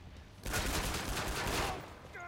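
A dense burst of loud gunfire from the shooter game Killing Floor 2 lasts over a second, quick overlapping shots forming a close fusillade that then fades away.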